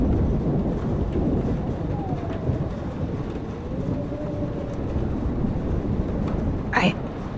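A thunderstorm in the video game Life Is Strange gives a continuous deep rumbling roar of wind and rain, with a sharp crack near the end and a faint drawn-out tone in the middle.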